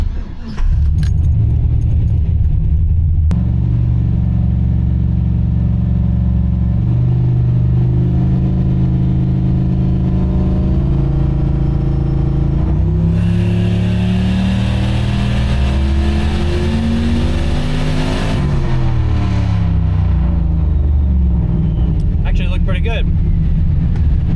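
A turbocharged Oldsmobile engine on a dyno, tuned with a Holley Terminator X, revs hard and loud through a long pull of roughly twenty seconds, its pitch climbing steadily before it drops off near the end, with voices talking underneath.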